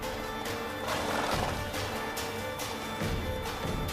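A horse whinnies loudly amid clopping hooves and rustling movement in The Witcher 3: Wild Hunt, all packed close together in a busy, noisy moment.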